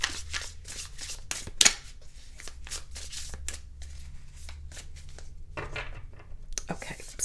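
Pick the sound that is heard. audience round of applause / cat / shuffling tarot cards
shuffling tarot cards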